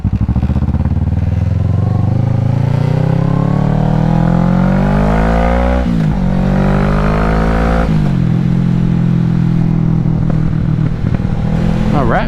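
A car's exhaust drones loudly from inside while driving, the engine note climbing through gears with rising pitch, dropping at shifts and then settling into a steady rumble.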